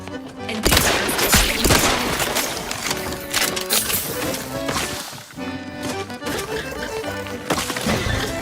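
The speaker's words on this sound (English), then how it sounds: "Some repeating rifle." Repeating rifle fire in The Outer Worlds 2 video game cracks out in rapid, irregular bursts over a dense bed of game sound and music. The shots are sharp and fairly loud throughout.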